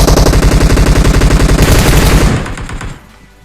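Rapid bursts of automatic gunfire in the video game PUBG rattle loudly and closely for about two seconds, then a shorter trailing burst fades out.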